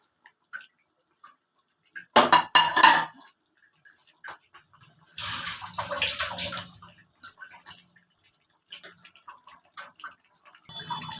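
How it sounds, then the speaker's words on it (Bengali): Fish pieces drop into a pot of boiling curry, giving two watery splashing, bubbling bursts separated by near silence, close and moderately loud. "এবারে আমি মাছগুলো দিয়ে দিলাম।"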